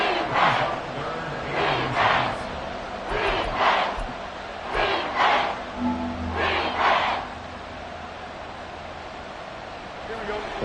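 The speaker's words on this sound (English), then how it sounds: "this crowd trying to force a false start here" A football stadium crowd roars in repeated surging swells on a third-and-inches play, trying to force a false start, with a broadcast commentator's voice over the dense, steady wash of noise.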